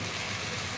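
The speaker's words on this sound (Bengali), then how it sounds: "দিয়ে দেবো জল।" Water pours into a pan of cooking masoor dal, a short, steady, rushing splash heard up close with no talking.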